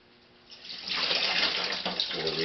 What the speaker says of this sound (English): pour some sanitizer over